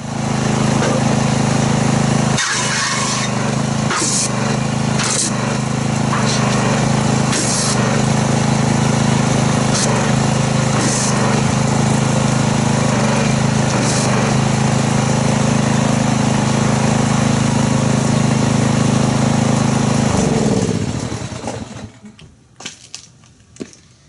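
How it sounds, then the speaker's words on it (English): A gas pressure washer engine drones loud and steady for about twenty seconds during a car wash, then cuts out and leaves a few faint clicks. "we'll get our pressure washer, stick it in there and see how it foams"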